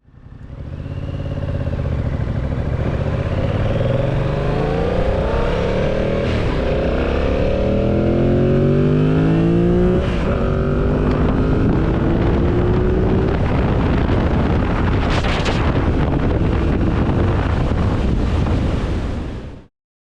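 Loud, constant wind buffeting on a riding motorcycle's microphone covers the engine, which drones and climbs steadily underneath for about twenty seconds before cutting off.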